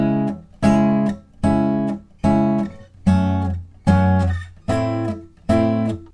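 Acoustic guitar picking barre chords, seven evenly spaced plucked chords that each ring and decay, loud and close with no other sound, forming the opening line of a Christmas song.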